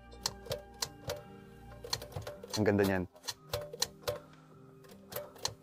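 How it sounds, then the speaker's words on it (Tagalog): A Royal typewriter from Stockholm is typed on: irregular sharp key strikes and clacks, with one brief rattling burst of the mechanism, heard under a short spoken remark. "Isang Royal typewriter mula sa Stockholm."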